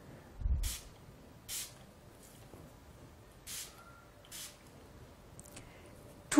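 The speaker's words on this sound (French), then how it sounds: "nous allons désinfecter avec l'alcool à 70 degrés en spray, le plan de travail" Short hissy bursts of alcohol spray from a spray bottle, a few separate puffs of 70 degree disinfectant onto a work surface, fairly faint and close, with quiet pauses between them.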